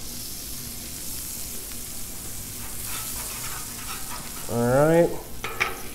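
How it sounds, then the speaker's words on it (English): Peanut oil and butter sizzle and hiss steadily on a Blackstone griddle while being stirred, and someone speaks briefly near the end. "We're going to throw some butter down. Get this all cooking up. Mix it up nice and good."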